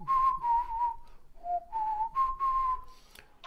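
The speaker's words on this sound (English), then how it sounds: "But who's whistling now?" A person whistles a tune clearly and fairly close, a melodic run of sustained notes that glide between pitches with brief breaths in between, alone without talk.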